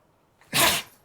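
A single short, sharp sneeze bursts out close to the microphone during a podcast recording, with near silence before and after it.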